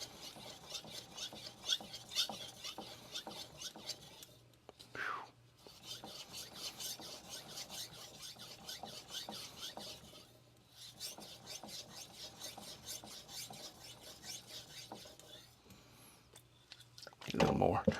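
A 240mm Yoshida Hamono Aogami 2 knife is being polished on a Morihei Hishiboshi 4000 whetstone. Close, steady rhythmic rasping strokes repeat back and forth, with brief pauses between passes and a louder scrape at the end.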